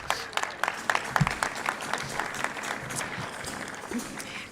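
An audience at a Rotary Club meeting in Tucson applauding a newly welcomed board member, a fairly faint, brief scatter of clapping in a room, with a few voices under it.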